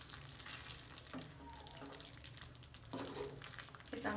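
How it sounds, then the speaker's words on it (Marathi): Butter being stirred into butter chicken gravy in a pan over a low flame: a steady soft sizzle with scraping, stirring strokes that swell now and then, with no talk. "आणि आता आपल्या याच्यामध्ये थोडंसं बटर टाकायचं आहे अजून आणि मिक्स करून घ्यायचं"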